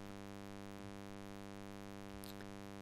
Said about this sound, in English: I'll just play you a sawtooth wave.